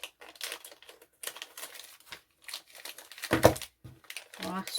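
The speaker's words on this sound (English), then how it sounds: "Take them out the plastic bags." Plastic bags crinkle and rustle in bursts as pieces of a Tonic Studios Rosemaling circle die set are taken out of them, close and fairly quiet, with a voice talking briefly between the handling sounds.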